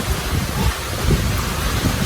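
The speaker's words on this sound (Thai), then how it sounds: "ตอนนี้ฝนตกยังแรงเลยนะหลังหลังจากที่คึ้มแล้วก็ร้องคึงกลางคึงคลางมา" Heavy rain pours steadily in a dense, loud hiss during a thunderstorm, with low rumbling thunder rolling beneath the downpour throughout.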